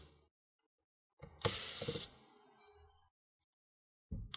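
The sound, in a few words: removing hard drive screws from an Asus X455L laptop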